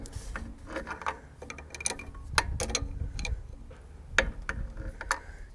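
A 3/4 inch wrench working loose a fuel pump fitting during a Tork Tek P-pump overflow valve upgrade, giving close, irregular metallic clicks and ratcheting taps over a few seconds with no speech.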